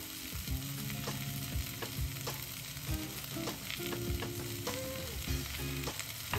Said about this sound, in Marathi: परत एकदा सगळं छान हलवून घ्यायचंय.